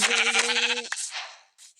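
Sheep bleating in the video game Minecraft, a clear harmonic bleat lasting nearly a second, close and loud, followed by a short soft rustle and faint trailing noise.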